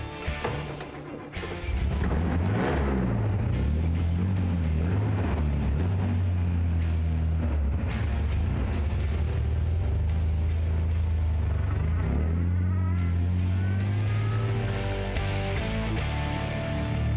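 Close up and loud, the engine of a nearly century-old vintage Invicta 4½-Litre Low Chassis S-Type starts and settles into a deep, steady rumble, with throttle blips and a strong low drone throughout.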